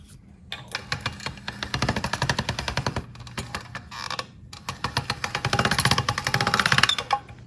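Dough for old-fashioned onion crackers is fed through a hand-cranked noodle machine, giving bursts of rapid, close rattling clicks that stop and restart several times.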